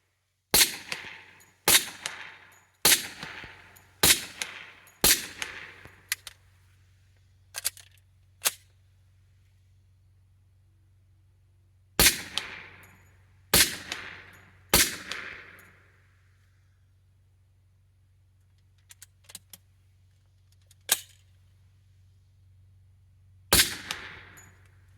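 Sharp .45 pistol shots at a shooting range, fired in quick strings of several cracks with pauses between groups, each crisp report fading fast over a low steady hum.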